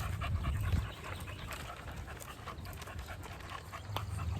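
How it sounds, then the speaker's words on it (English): A dog pants rapidly and steadily nearby during a nature walk in a park, quick rhythmic breaths over faint outdoor background noise. "I hear Maggie panting."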